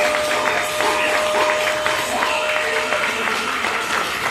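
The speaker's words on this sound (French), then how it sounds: "Applaudissez pour Noëlla Service" Guests at a surprise 60th birthday party in Orly-Ville applaud the caterer. The clapping is steady and sustained for several seconds, with a faint crowd murmur and a thin steady tone running through it.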